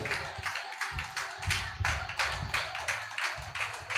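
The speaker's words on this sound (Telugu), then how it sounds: "రెండు చేతులెత్తి గట్టిగా చప్పట్లు కొడుతూ యేసయ్యకు మహిమ చెల్లిద్దాం." Church congregation clapping hands together in a steady, fairly quick rhythm, many hands blending into regular bursts of sharp claps.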